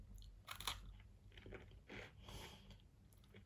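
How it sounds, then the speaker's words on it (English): Close, crisp crunching as a cinnamon caramel speculoos-style biscuit is bitten and chewed, a few sharp crunches followed by softer chewing. "So it's nice and crunchy."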